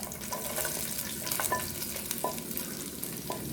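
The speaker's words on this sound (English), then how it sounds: "Now you can fry the coconut. It's already hot." Coconut frying in hot oil in a pan, a close steady sizzle broken by a few scraping stirs of a spoon, with no talk.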